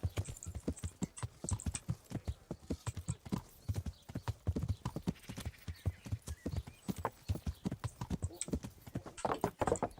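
Horse hooves clip-clop in a steady, brisk rhythm on hard ground in the video game Kingdom Come: Deliverance, the beats close and prominent throughout, with faint snorts and no speech over them.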